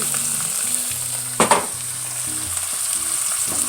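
Beef shank sizzling in oil in a pan being braised with apple, a steady close frying hiss with a brief louder burst of crackle midway, no speech.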